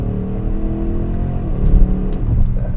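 A 2025 Audi SQ7 engine held in manual mode drops a gear with a rising blip of revs, a steady loud drone swelling briefly midway and settling again, heard close from inside the cabin with no talk.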